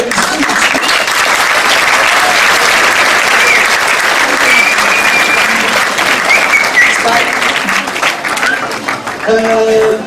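An audience at an award ceremony applauds loudly and continuously for about ten seconds, a dense wash of clapping that thins slightly near the end.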